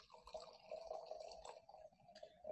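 Wine poured into a glass during a sommelier-led tasting, a faint liquid trickle and fill with a few soft drips, quiet and close, with no talking.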